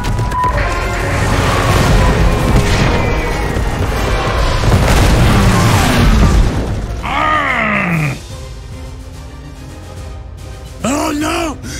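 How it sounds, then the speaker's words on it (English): Heavy bombing explosions in the Warpath war strategy game, loud booming blasts rolling over one another with whistling tones above, continuous for several seconds before easing off, with a voice speaking over the battle. "High Command has sent in bombers."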